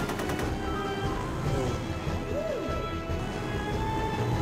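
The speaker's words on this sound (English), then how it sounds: "We have to shoot him down. No, we are not. We're shooting him!" Rapid gunfire shots aimed at a duck in the Disney's Magical Mirror Starring Mickey Mouse video game, a steady busy stream of game effects with brief whistling tones over it.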